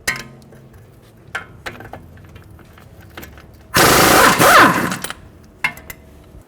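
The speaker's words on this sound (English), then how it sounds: "22mm socket, we're going to hold the head of the bolt and take the nut off." A 22mm socket takes the ball joint nut off the front knuckle of a 2014–2019 Toyota Highlander. Scattered metallic clinks and taps lead to a loud, close, roughly one-second burst of a tool spinning, then quieter clinks.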